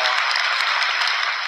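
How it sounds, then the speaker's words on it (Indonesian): A crowd at a religious talk bursts into loud, dense applause, a continuous wash of clapping held at full strength through a short burst. "Tepuk tangan dulu ya."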